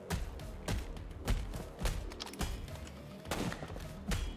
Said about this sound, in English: we got people shooting at us now